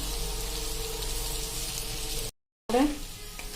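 Onions and mixed vegetables for a curd-and-onion curry sizzle steadily in a pan over a medium flame while being stirred. The frying hiss runs evenly, breaks off in a brief dropout, then returns with scraping.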